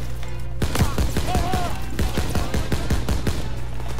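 Rapid machine gun fire from a Browning M1919 and an MG42 in the World War II shooter Call of Duty WW2, loud sharp bursts of repeated shots close by with brief gaps.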